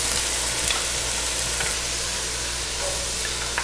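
Seafood shells sautéing with onion and shallots in a pot, a steady, dense sizzle and frying hiss with occasional stirring scrapes, close and continuous without any talk.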